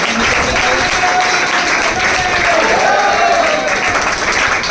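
Loud, steady applause from a crowd at a ceremony honouring selected students of a coaching class, filling the whole stretch with dense clapping and a faint voice beneath.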